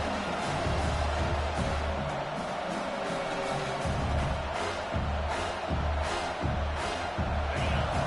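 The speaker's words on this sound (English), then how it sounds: "This crowd bringing the energy and noise early." A football stadium crowd roars in a constant, dense wash of noise, with a low rhythmic thumping repeating underneath throughout.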